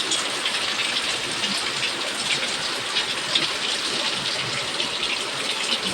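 Heavy rain pours steadily, a dense, constant hiss of water falling hard on surfaces with no pauses.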